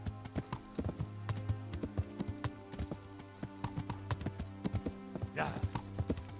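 Horse hooves clip-clop at a steady walking rhythm in the medieval video game Kingdom Come: Deliverance, close and distinct over a low, steady background hum.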